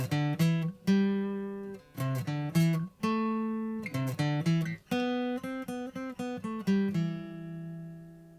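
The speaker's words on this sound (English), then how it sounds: "coming up with a very simple melody line on my acoustic guitar." A simple plucked acoustic guitar melody, notes in short phrases with brief gaps, clear and close, played alone without any voices.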